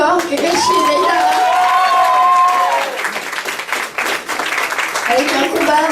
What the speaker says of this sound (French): On les applaudit bien fort, Kakashi et Deidara.